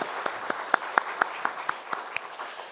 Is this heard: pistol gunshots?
no